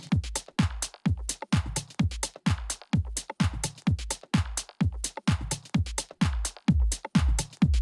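Bass-heavy electronic DJ mix played through a Model 1 mixer with the low end left uncut, booming kick drums hitting in a steady four-on-the-floor pulse, loud and without any talk.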